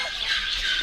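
A parrot squawks at a bird park, one shrill, harsh, sustained call that is close and loud, with no talk over it.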